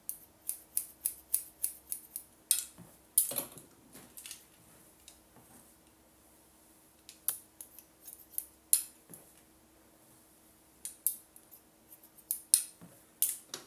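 Scissors snip through a woman's short hair in an adult short-cut haircut, the blades lifting and trimming along the curve of the head in quick bursts of crisp close snips with brief pauses, no voices.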